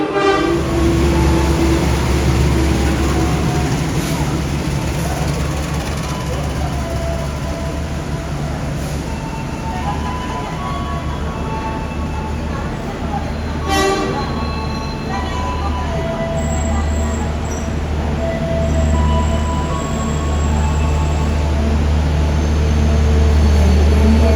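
A busy northern platform at Yogyakarta's main railway station, with crowded trains. Engines rumble loudly and continuously, wheels clank and squeal, and a train horn sounds clearly while the crowd noise continues in the background.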